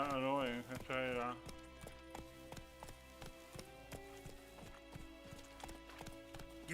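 Roach, a horse in the video game The Witcher 3, gallops in a steady rhythmic clip-clop of hooves with a brief neigh at the start, set against a soft game music bed.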